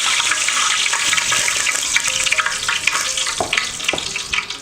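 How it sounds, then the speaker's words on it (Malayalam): Vigorous, crackling sizzle of curry leaves frying in hot coconut oil, continuous and close, with bursts of spattering throughout. "കറിവേപ്പില എണ്ണയിലിട്ട് വറുത്ത് കോരുവാണ്."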